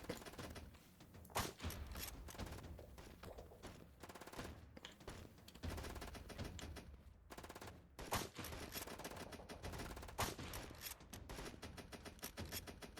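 Sustained automatic gunfire from the indie war game The Patriotic War, dense rattling bursts and scattered louder shots running loud and continuous throughout, with no talking over it.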